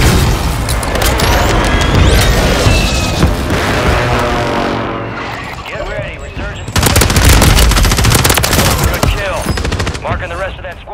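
Mortar strike explosions thud and boom in Call of Duty amid rapid, loud automatic gunfire and crashing debris, with voices talking over the chaos.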